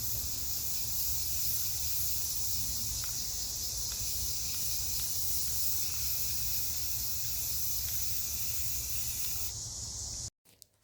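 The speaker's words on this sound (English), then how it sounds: "I'm going to spray paint it black." An aerosol can sprays black paint onto a wooden board in a long, steady hiss that runs for about ten seconds before cutting off abruptly, followed by a brief clatter.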